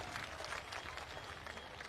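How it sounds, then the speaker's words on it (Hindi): A crowd at an outdoor Jan Suraj political gathering in Saran district claps in welcome: faint, distant, continuous rustling applause from many people with no distinct individual claps. "उनके लिए जरा जोरदार ताली से स्वागत कीजिए।"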